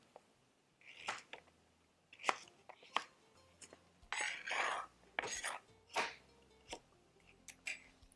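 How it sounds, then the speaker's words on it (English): Knife slicing beets into even rounds on a cutting board, a series of crisp chopping strokes in irregular bursts, close and fairly loud, with no voice over them. "An easy way is just cut them in half and then slice them"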